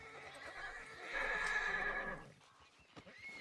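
A frightened horse in Red Dead Redemption 2 whinnies loudly in a drawn-out, wavering neigh, with a few hoof clops before and after.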